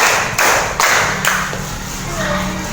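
A group claps the 'green' clap pattern during a school coaching session, with a few firm, evenly spaced claps followed by a quieter stretch, and a voice faintly audible in the background.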